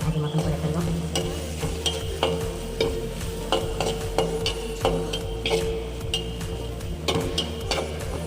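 Garlic and onion fry with turmeric in a pan for a gourd and fish dish, sizzling steadily while a spatula scrapes and stirs in regular strokes, close and fairly loud, and a voice talks now and then over the cooking.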